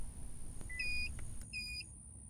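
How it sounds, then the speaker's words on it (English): A 2006-2008 Lexus confirms a smart key held to the start-stop button with a few short, clear electronic beeps over a low engine rumble. "hold it next to the start-stop button until you hear a beep"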